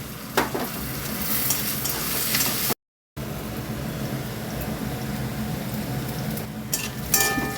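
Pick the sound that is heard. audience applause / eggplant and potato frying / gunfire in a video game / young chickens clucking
eggplant and potato frying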